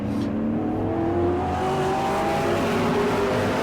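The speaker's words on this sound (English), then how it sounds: "on these racing tires for these A-Mods, they are setting up blistering pace out there" A-Mod race cars on racing tires roar around the track at the Auburndale season opener, a steady loud engine drone with rising pitch as the cars speed past.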